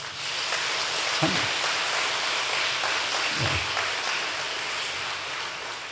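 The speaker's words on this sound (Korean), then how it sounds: "우리 한번 박수 한번 해주세요" A church congregation applauds steadily throughout, a dense, even wash of clapping hands that holds at a constant level from start to finish.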